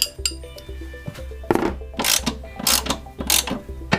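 A hand ratchet tightening the bolts of a Cusco front strut bar during a car install. Close, loud bursts of rapid clicking ratchet strokes repeat several times in an uneven rhythm, with no voices.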